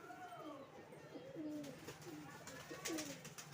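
Pigeons of an old Rajshahi high-flyer tumbler breed, a blue male and a red female paired together, give soft repeated rolling coos at close range against faint background noise.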